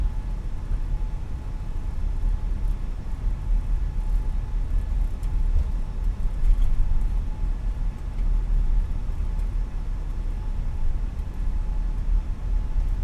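Airbus A320 jet engines spooling up on the runway before takeoff in Microsoft Flight Simulator, a steady, loud, broad engine roar with low rumble holding constant throughout, no talk.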